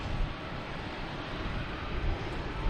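A Lufthansa airliner at the end of the runway at Boston's Logan Airport gives off a continuous broadband jet roar, steady and moderately loud, with wind buffeting the microphone.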